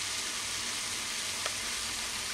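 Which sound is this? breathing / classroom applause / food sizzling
food sizzling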